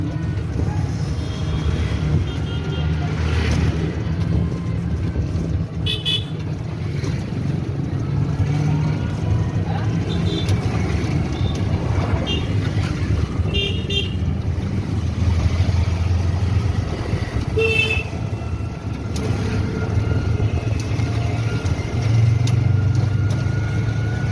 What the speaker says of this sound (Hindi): देखिए इतना ट्रैफिक चल रहा है